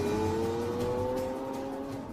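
A Lamborghini Aventador on a road test drives with a strong engine tone that rises steadily in pitch as it accelerates, clear and close with no talk.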